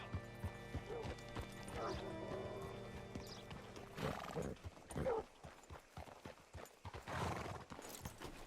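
Hooves clip-clop on hard ground while a horse snorts and whinnies, close by, with a few thuds and rustles around it, in the video game Red Dead Redemption 2.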